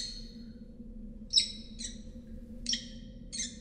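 Bird in the game Virginia, calling in short, bright, separated bursts: one at the start, then four more spaced about a second apart over a low, steady ambient hum.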